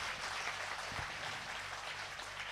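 A crowd at a Shrimad Bhagwat Katha gathering claps together, a faint, distant wash of applause that holds steady throughout.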